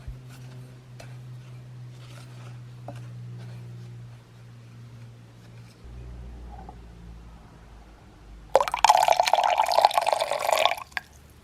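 Warm water is poured into a bowl of keto bread batter dry mix, a short splashing gush near the end after quiet handling noises, close and moderately loud.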